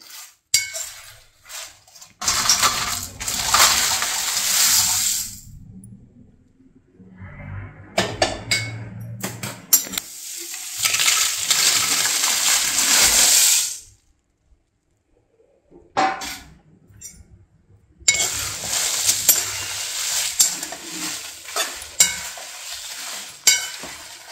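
Garlic frying in a pan for a Guntur-style idli podi spice powder, with bursts of crackling sizzle and stirring scrapes separated by short quiet gaps and occasional clinks of a utensil.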